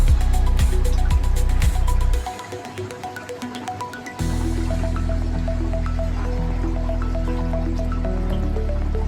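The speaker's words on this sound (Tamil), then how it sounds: "இப்போ தண்ணி நல்லா கொதிக்குது" Water boils in a pot up close for mutton kofta gravy, with steady bubbling and small irregular pops over a constant low rumble.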